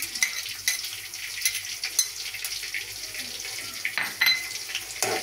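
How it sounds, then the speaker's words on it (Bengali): Chopped raw garlic frying in hot oil in a pan over a wood-burning stove, a steady close sizzle with occasional sharper clinks and scrapes of stirring. "তেলটুকু একটু গরম হয়ে গেছে। এখন আমি একটু রসুন কুচি কুচি করে কাঁচা রাখছি, রসুনগুলা দিয়ে দিলাম"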